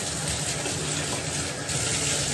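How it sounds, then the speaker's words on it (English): Running water rinses conditioner off hands under a tap, a continuous close hiss and splash with no break and no talking. "Let me go ahead and rinse it off the hands and see how that is."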